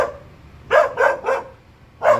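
A dog barks four times in short, sharp bursts: three in quick succession, then a pause before a fourth. The barks are fairly close against a quiet background.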